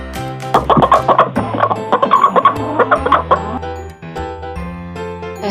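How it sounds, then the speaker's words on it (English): A chicken clucks in a children's English lesson on animal sounds, giving a run of clucks over a steady musical backing. "A chicken clucks."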